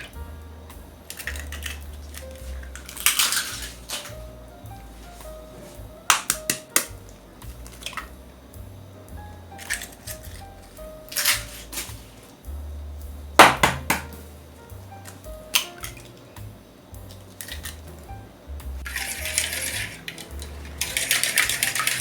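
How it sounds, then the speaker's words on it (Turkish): Several sharp cracks and taps of three eggs against a bowl rim for a chocolate-sauce cake batter, followed by clinks and scraping sounds of shells and kitchenware, close and unhurried. "Arkadaşlar 3 tane yumurtamızı kırıyoruz."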